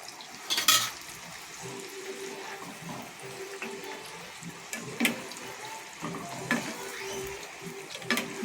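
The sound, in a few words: gulab jamun dropped into hot oil and frying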